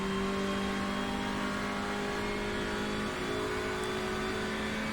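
A Hyundai race car in iRacing at Okayama revs hard and steadily, a loud, close, sustained engine tone with a brief dip as it shifts up through the gears.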